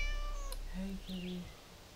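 A cat meows twice in quick succession, fairly near, in a tense horror-movie scene, with a faint voice in the background.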